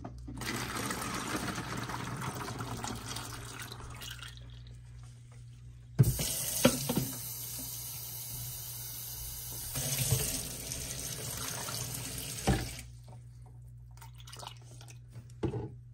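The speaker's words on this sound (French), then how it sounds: "Ou ap utilize yon ti conteneur comme ça et puis ou ap ajoute de l'eau" Water pours into a small container holding about fifteen whole cloves, a steady close trickle that swells into a louder splashing stream midway and then tapers back to a thin flow.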